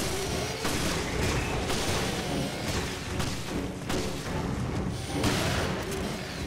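Gunfire in the video game Resident Evil: Revelations, heavy booming shots and thuds going off repeatedly in a dense, loud barrage with short gaps between bursts.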